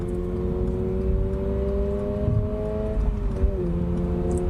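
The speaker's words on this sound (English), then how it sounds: "the way that this thing corners, like right here, little rev match and the downshift" Subaru BRZ engine heard from inside the cabin during cornering, a steady drone with harmonic engine tones that dip and shift near the end as it rev-matches on a downshift, without talk.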